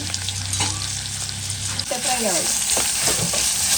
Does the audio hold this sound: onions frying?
yes